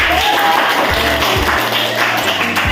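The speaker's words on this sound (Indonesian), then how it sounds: "Oke, tepuk tangan buat teman-teman." Classmates in a school classroom give a round of applause. The clapping is loud, steady and close, with dense continuous hand claps throughout.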